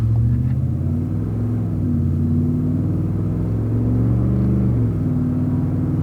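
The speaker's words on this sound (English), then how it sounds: "We're going back into first gear." A Ford F-150 pickup truck accelerating through its gears, a steady low engine rumble with a couple of brief dips where shifts occur, heard from inside the cab with no talking.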